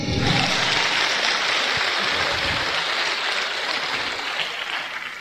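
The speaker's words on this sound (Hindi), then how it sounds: "मैडम के लिए जोरदार ताली।" Dense, steady clapping from a crowd fills the whole stretch, loud at first and tapering slightly toward the end.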